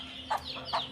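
Young chickens about two and a half months old give two short, close clucks in quick succession, with no talking.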